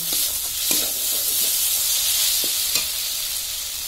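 Chopped tomato and ginger paste hitting onions already frying in a pan for a Bengali lata (snakehead) fish curry, giving a steady broad sizzle with a few soft stirring clicks throughout.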